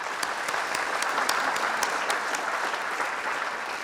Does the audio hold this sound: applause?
yes